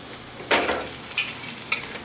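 Desi chilli paneer tikka frying on a flat tava, a constant oily sizzle broken by a few sharp scrapes and flips, near and fairly loud with no talk.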